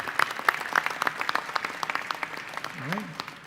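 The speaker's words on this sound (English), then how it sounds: "Mr. Pat Coleman, let's give him a round of applause" A crowd applauds Pat Coleman at a 2013 Gagliardi Trophy presentation, with steady clapping under brief talk from the announcer and a short musical or vocal swoop near the end.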